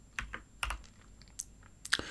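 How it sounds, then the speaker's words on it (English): Someone types on a computer keyboard in a quiet room, producing a sparse scatter of sharp, close key clicks with short pauses between them. "Can we type things? Okay, we can type things."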